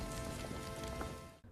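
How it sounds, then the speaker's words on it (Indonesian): Rain falls at night in the Amazon jungle, a dense, continuous hiss of drops on foliage that fades near the end. "Pada malam berikutnya di tengah hujan,"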